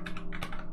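Rapid key presses on a computer keyboard while entering code, a steady run of close, crisp clicks with no pauses and no voices.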